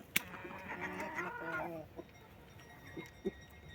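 Farm chickens moulting their feathers cluck and squawk in a short busy burst near the listener, then fall to a few faint clucks and scattered sounds without talk.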